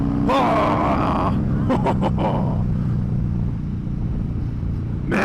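A motorcycle engine revs hard under throttle with a deep, loud rumble, while a rider's voice exclaims and groans over the opening seconds.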